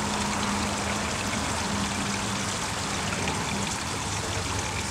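Compost tea and water poured onto the base of a cold-weather fig, pomegranate or banana tree, a steady close splashing trickle running continuously at even loudness.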